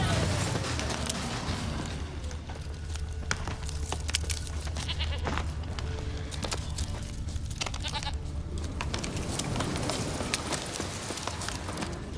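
A goat in The Witcher 3: Wild Hunt bleats repeatedly over a busy, noisy game soundscape with hoof-like clatter and movement.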